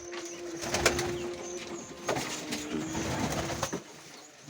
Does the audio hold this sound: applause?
no